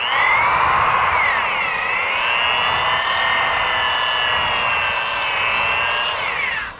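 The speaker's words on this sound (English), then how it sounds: "I love the dingle ball hone. This is not pro, but it works." A dingle ball cylinder hone spun by a drill inside an engine block during a Willys rescue, giving a loud, steady high-pitched whine with slowly wavering pitch that runs unbroken for several seconds.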